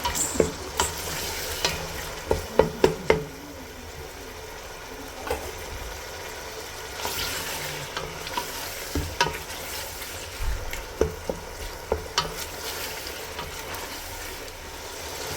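Onions with chwabi fry in a pan and are stirred, a soft continuous sizzle under intermittent scraping and clattering utensil strokes, close and moderately quiet.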